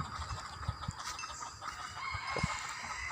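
Chickens cluck in a friend's orchard among rose apple and mango trees in Nan, Thailand, with scattered soft clucks and calls under a dense wash of outdoor insect and ambient noise, nobody talking.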